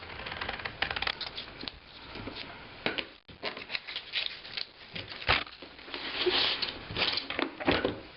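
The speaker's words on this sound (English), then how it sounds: "Just gather up as many sheets as you can comfortably cut through with your scissors." Scissors snip repeatedly through a thick stack of book pages, giving crisp papery cuts and rustling at an irregular pace, close and fairly quiet.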